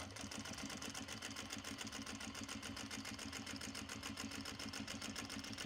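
Sewing machine stitching a row on a Japanese fabric bag, whirring in a fast, steady rhythm of rapid needle strokes, close and continuous with no voices.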